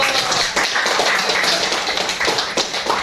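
A classroom of students claps together for a classmate during a lesson, quick uneven hand claps forming a lively continuous patter that swells and dips over a few seconds.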